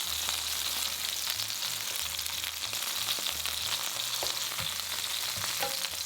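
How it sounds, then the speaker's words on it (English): Oil sizzling and crackling steadily in a hot pan as king oyster mushrooms fry until golden brown, a continuous hiss with a low hum beneath and occasional small clicks. "Add the king oyster mushrooms in the pan and pan fry until golden brown"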